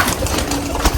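Soft pigeon cooing sits under a low, rumbling background hum, short and fairly close.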